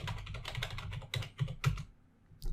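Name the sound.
typing a command on a computer keyboard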